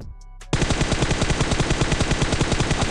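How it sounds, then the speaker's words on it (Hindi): Gunfire in a battle royale video game: after a short quiet pause, a loud sustained burst of rapid automatic fire starts and hammers on in a fast steady rhythm to the end. "अब ये जो बंदा था ये गोलियों की आवाज़ सुनकर यहाँ पर आ जाता है।"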